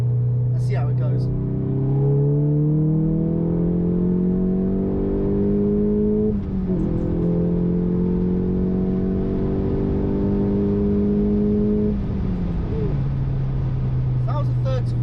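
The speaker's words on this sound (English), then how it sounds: "I'm going to do a third gear pull from about 50 and see how we see how it goes." A VW Golf GTI MK7 revs hard through a third-gear pull from about 50, the engine note climbing steadily, dipping briefly at a shift near the middle, then rising again before settling into fourth; a loud, close, continuous drone.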